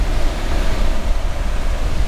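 Wild surf rolls in at Punaluʻu black sand beach, a steady, loud wash of breaking waves with a low rumble and wind buffeting the microphone throughout, with no voices.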